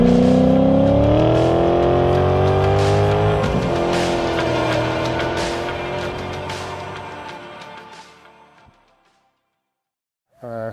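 A green VW Caddy fitted with a 4.2 V8 engine drives hard on a track, its loud engine roaring and revving with tire squeal as it passes close by, then fades away into silence before a brief sound returns at the end.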